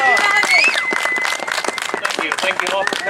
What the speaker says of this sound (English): give him a good, nice warm round of applause to John Anderson, Illinois State Leader